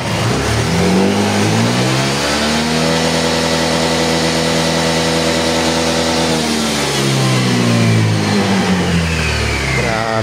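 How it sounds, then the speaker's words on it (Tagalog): A modified Honda Click 125i V3 scooter engine, warmed up, then revved at full throttle close by, climbing to a loud sustained high-pitched whine, holding, then dropping back and rising again. "So, try natin full throttle."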